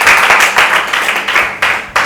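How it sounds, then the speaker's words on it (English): An audience clapping at a fashion and design skill acquisition training event, a short dense burst of applause that swells and fades in waves, loud and close, with no speech over it. "I thought you'd clap"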